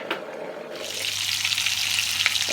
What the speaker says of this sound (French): je vous présente les morceaux de viande hachée que je fais cuire